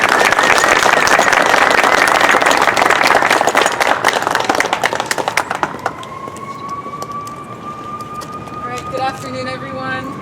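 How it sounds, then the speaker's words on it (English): Loud, dense applause from a crowd at a community rally for affordable housing fills the first half, then thins out as a steady tone and scattered sounds take over. "I want to give a round of applause for our actors"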